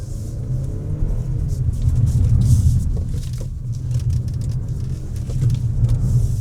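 Omoda C9 SUV with a 2.0L turbo engine making 257 horsepower, accelerating on the road, heard from inside as a steady low rumble and road roar that swells slightly, with no talking.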